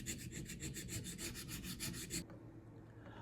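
A small single-layer hardened Japanese hand plane iron, from a Kakuri 42mm plane, rubs back and forth on a sharpening stone in steady, even strokes for about two seconds, close and moderately loud, then the grinding stops.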